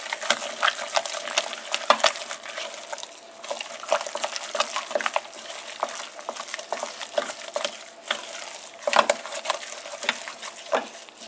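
Eggs are beaten one at a time into cream puff dough, a steady run of wet, sticky slapping and stirring strokes, close and fairly loud, with no talking.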